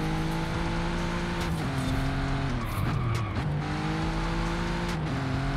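An Audi RS5 in Forza Horizon 5 holds a steady, loud engine drone through a curve, with tires squealing and skidding midway as revs dip and climb again.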